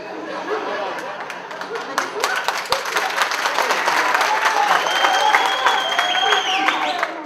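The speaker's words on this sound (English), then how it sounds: "The crowds had fun cheering for their fellow student actors." A crowd of university students at a campus film festival in Baghdad cheer and applaud their fellow student actors, steady dense clapping with scattered whoops and laughter building across the stretch, no clear speech on top.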